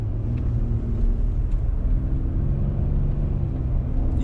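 Low, steady exhaust rumble from a Ford 3.5 EcoBoost with the resonator deleted, idling at close range; a continuous deep drone with no revving and no talk.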